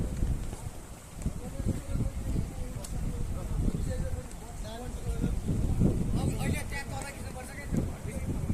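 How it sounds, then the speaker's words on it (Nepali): Wind gusting on a hiking trail in Nepal, buffeting the microphone with low rumbling bursts throughout, while people talk nearby. "हावा चलेको"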